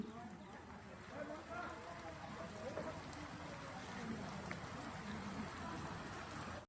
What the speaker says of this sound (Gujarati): ધોધમાર વરસાદ અત્યારે વરસી રહ્યો છે